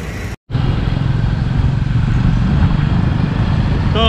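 A motorcycle, recently repaired after breaking down, runs with a steady loud droning engine and road noise close by while being ridden, after a brief cut near the start.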